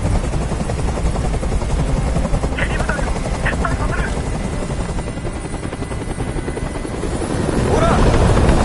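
A video game helicopter in Detroit: Become Human hovers, its rotor thumping steadily nearby, a constant whirring drone with brief faint voices partway through.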